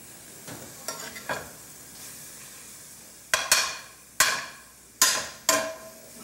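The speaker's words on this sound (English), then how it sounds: "let me stir that dried parsley down into this thing that we got here" Dried parsley being stirred into a hominy and chili casserole in a pan; faint scraping at first, then several louder, sharp spoon strokes against the pan over a steady background sizzle, with no talking.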